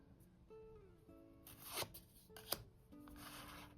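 A brief riffle of tarot cards being shuffled, a soft papery flutter and snap, close and quiet with no talking.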